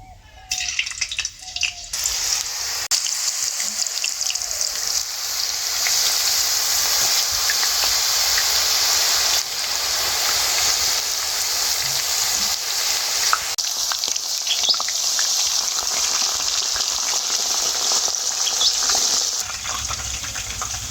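Potato slices fry in hot oil in a wok with a loud, sustained hiss that begins after a short burst of noise and runs almost unbroken to the end, with occasional crackles and stirring.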